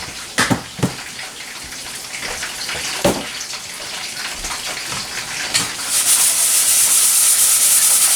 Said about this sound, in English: you just need enough water to lightly cover the rice